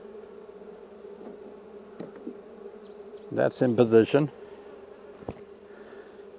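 A steady buzz of honey bees hums around a hive throughout, with a brief burst of close talking in the middle and a few clicks and knocks.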